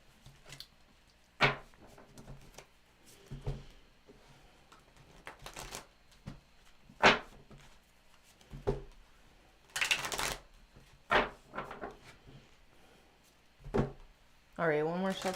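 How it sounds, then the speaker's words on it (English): Tarot cards being shuffled in quick riffling bursts, with soft taps and handling noises between them, close up and fairly quiet. "All right, one more shuffle."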